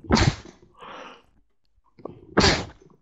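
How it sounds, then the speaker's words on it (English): A person sneezes twice close to the microphone, each sneeze a sharp, loud burst, with a softer breathy sound and a quiet pause between them and no talk. "Sorry about the sneezing."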